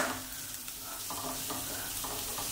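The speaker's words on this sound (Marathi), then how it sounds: "अशा प्रकारे आपण भाजून घ्यायचं आहे." Colorful vegetables, white, green and orange, roasting in a pan, giving a steady close sizzle with a few soft stirring scrapes and no talk.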